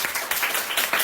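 A church congregation claps to welcome two visiting pastors, dense, loud applause swelling in waves and filling the whole room, with no talking.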